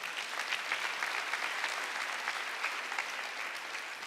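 Sustained congregation clapping during a Korean church sermon, a dense, even patter of many hands heard at a distance and fairly faint.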